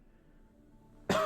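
One short, sharp cough from a single nearby person bursts out after a second of near silence.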